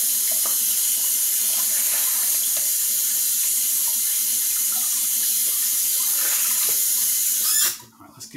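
Running water from a tap rinses soap off, a continuous, close and fairly loud splashing flow with no talk that stops abruptly near the end.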